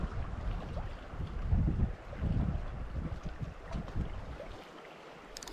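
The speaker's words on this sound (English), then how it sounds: "Strangely, it's an upstream wind." Upstream wind gusting by a river during fly fishing, a broad low rumble of buffeting on the microphone with swelling gusts and faint water movement, no voices.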